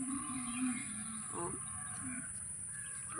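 Cattle, a cow or buffalo, low mooing near a field, with a couple of drawn-out calls rising over a quiet outdoor background with faint insect hum.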